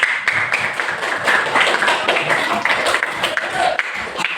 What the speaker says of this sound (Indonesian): Benar, tepuk tangan untuk Abi.